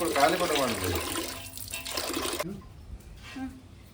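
Hot water gushes from a tap in a strong, steady rush for a couple of seconds, then cuts off, leaving faint trickles and background noise.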